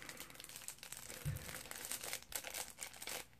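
Crinkling and tearing of a Pokémon trading card booster pack wrapper being opened by hand, a steady close rustle with a brief thump midway, quiet and alone.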